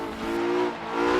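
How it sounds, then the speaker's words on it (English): A Porsche 918's V8 engine in Forza Horizon 3 holds a steady, loud, high-pitched drone for a moment, with no voices over it. "it does sound really nice. That V8 is so nice sounding"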